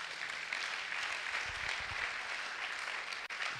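A church congregation claps and cheers in praise of the Lord, a steady dense wash of applause sustained throughout with no pauses.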